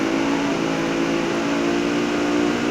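A Mercedes-Benz GT63 four-door saloon at very high speed in BeamNG.drive, its engine holding a loud, steady, continuous drone with a tonal whine throughout and no break.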